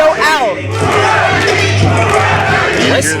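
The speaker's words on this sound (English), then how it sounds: "You hear this crowd react to him." A loud, dense crowd at a pro wrestling match in Texas roars and chants, with rising yells and whistles layered over a constant din of cheering.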